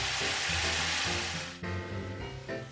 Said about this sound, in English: Drop the guanciale, of course previously sliced in long stripes, in the pan. Fry at high heat